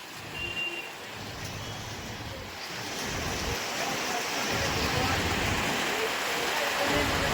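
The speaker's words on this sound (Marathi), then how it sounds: "आज संपूर्ण मोहोळ तालुक्यातील विविध गाव गावांमध्ये आणि मोहोळ शहर परिसरामध्ये जोरदार पाऊस सध्या पडत आहे" Heavy rain pours steadily over a town and villages in Mohol taluka, a dense, even wash of noise that builds slightly and carries on without a break. A faint distant vehicle hums under it.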